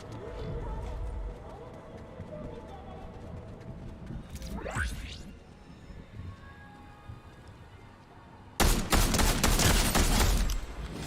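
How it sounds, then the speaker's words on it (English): Gunfire in the Crysis 2 video game: scattered shots and game noise, then a sudden, loud, sustained burst of rapid fire through the final seconds, close and dominant. "somebody's shooting at me"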